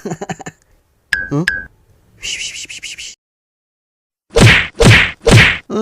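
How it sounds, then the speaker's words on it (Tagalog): Cartoon mobile phone keypad presses during a texting contest come as clusters of sharp tones and clicks, then three loud, evenly spaced beeps close up, with silent gaps between the bursts. "Jepoy, pwede laban tayong text?"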